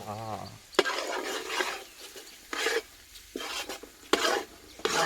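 Torn roti tossed in a hot pan for vagharela rotli, with bursts of sizzling and scraping as a spoon stirs, separated by quieter gaps; a brief voice sounds at the very start.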